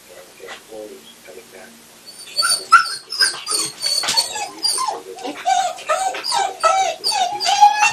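A dog left alone with separation anxiety whines and whimpers repeatedly in mild, intermittent bursts, growing louder and more continuous after the first couple of seconds, close to the microphone.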